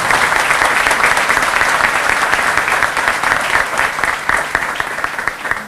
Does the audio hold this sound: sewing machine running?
no